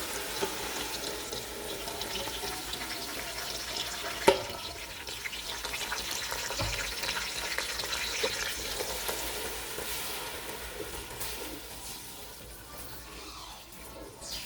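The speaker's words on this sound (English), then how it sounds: "I'm gonna let this fry for a little bit" Blended onion, habanero and bell peppers frying in a pot, a steady close sizzle running throughout with occasional stirring and a brief sharp knock near the start.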